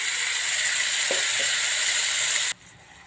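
Onion gravy frying for paneer korma gives a loud, steady sizzle and hiss, with a couple of brief stirring knocks before the sizzling cuts off abruptly near the end.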